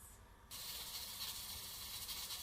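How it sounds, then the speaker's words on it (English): The weight on top of a pressure cooker simmering beef stew hisses steadily as it comes up to pressure, a quiet, even steam spray that starts abruptly and continues without a pause. "the weight on top of my pressure cooker is wriggling about, and that means that it's up to pressure"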